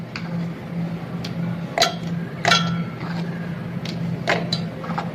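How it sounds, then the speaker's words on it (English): Broken Oreo biscuit pieces dropped into a blender jar, giving a few light, scattered clinks and taps against the jar over a quiet background hum. "break it into pieces and add it to the blender jar."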